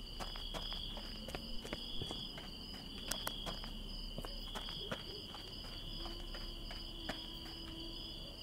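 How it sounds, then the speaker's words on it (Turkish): Insect buzzing fills a scene in the video game Contraband Police: a steady high-pitched drone with ticking, clicking transients and light footstep-like taps throughout, no talking. "Sinek sesini siz de duydunuz mu?"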